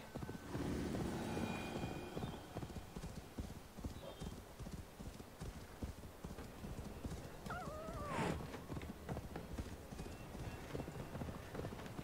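Horse hooves clop steadily in Assassin's Creed Valhalla while a horse whinnies partway through, fairly quiet over a low rumbling background.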